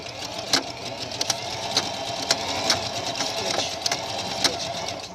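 A sewing machine stitches elastic onto a romper with a fast, steady mechanical whir broken by sharp periodic clicks, close and fairly quiet.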